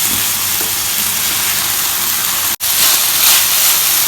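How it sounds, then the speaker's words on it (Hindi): Cabbage and vegetables stir-frying with vinegar in a pan over a high flame, a dense continuous sizzle and hiss, close and steady, with a brief clack partway through. "साथ ही हम अपनी बंद गोभी डाल देंगे और इसे अच्छी तरह से मिक्स करेंगे। फ्लेम हमारी हाई है।"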